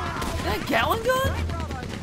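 Gunshots crack from Red Dead Redemption 2, several quick bursts layered over a voice talking throughout.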